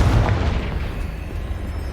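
A Confringo spell blast in Hogwarts Legacy hits with a heavy, close boom at the start, then a rumbling tail that slowly fades over the next second and a half, with no voices.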